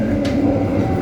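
Gunung Jati passenger train on the Haurgeulis–Cirebon run, heard as a steady loud low rumble and rolling wheel noise from inside the moving carriage, continuous throughout.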